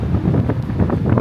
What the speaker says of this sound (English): it's a bit bloody windy